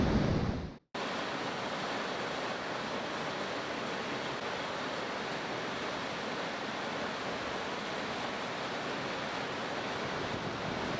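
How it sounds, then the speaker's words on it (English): Water of Qualicum Falls on Vancouver Island rushes beneath and around a bridge at the lower falls, a loud, steady, broadband roar that starts after a brief dropout and holds without a break. "so peaceful to stand there on the bridge and just have all the water flowing around you and under you"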